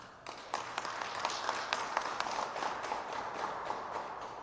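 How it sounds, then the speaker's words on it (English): A scattered audience claps for a speaker at a Minneapolis justice rally, a thin patter of separate hand claps at moderate distance, fairly quiet and steady. "Let's give him a round of applause."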